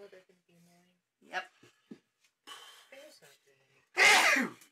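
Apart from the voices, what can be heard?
sneeze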